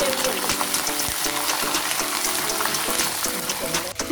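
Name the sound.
peanuts frying in hot oil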